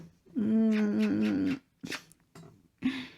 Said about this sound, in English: My kitty cat is here.